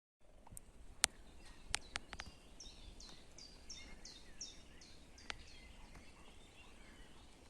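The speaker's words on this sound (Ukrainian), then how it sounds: "чутно спів пташок." Birdsong in a spring forest during a mushroom hunt for morels, with a series of short chirps repeating quickly in a faint, distant run alongside a few sharp isolated calls.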